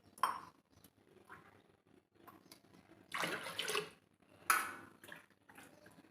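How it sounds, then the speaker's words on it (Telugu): Water is poured into a cooking pot for sambar in two short splashy bursts amid quiet kitchen clatter of utensils, with no talking. "ఇంకా కొంచెం వాటర్ పోస్తాను."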